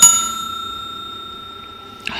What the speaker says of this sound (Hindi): लाल वाली बटन दबाओ और घंटी बजा दो